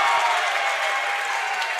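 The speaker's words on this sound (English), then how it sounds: "The Bronx cheer from the PH fans" Basketball fans at a Bryan vs. Patrick Henry boys high school game let out a loud, sustained crowd jeer in an indoor gym, a dense roar of many voices holding steady for about two seconds.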